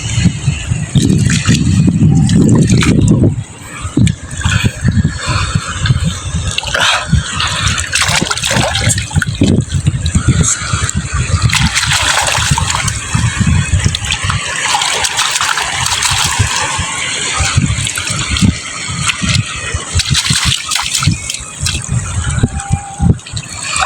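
Baby clams and shellfish are washed under water, giving loud, continuous splashing and sloshing close up, with a heavier rush of water at the start and uneven surges throughout.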